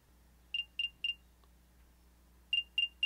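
AirPods play their locator chime from the Find My app: a trio of quick high beeps, a pause, then another trio. It is clear and isolated against a faint background hum.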